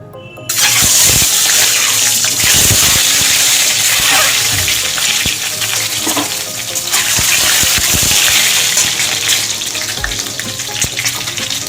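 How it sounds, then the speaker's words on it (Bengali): Duck eggs dropped into hot oil in a pan, a loud, continuous crackling sizzle that begins abruptly after a brief quiet moment and carries on with popping spatters, with no voices over it. "দেখ, তেল গরম হয়ে গেছে। এবার ডিমগুলো দিয়ে দেবো।"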